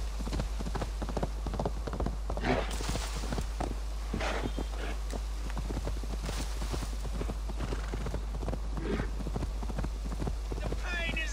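Horse hooves clip-clop at a steady walking rhythm in the video game Assassin's Creed Valhalla, close and clear, with a voice and game dialogue over them.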